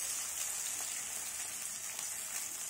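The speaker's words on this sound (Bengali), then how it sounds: "1 থেকে 2 মিনিট আমি পেঁয়াজটা ভেজে নিচ্ছি।" Onions frying in a pan over a high gas flame: a steady, even hiss and sizzle with faint crackles throughout, close and continuous, no voices.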